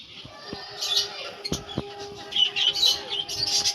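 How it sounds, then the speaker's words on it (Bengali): Pigeons give soft chirps and calls from a rooftop loft, with faint flutters and clicks amid a quiet outdoor background. "এই দেখো 5টে পায়রা উঠছে"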